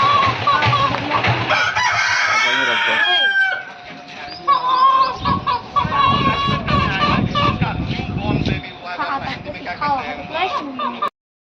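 Roosters crow and hens cluck at a village animal shelter (panjrapol) in Ranpur, with repeated calls close by and a person talking over the birds.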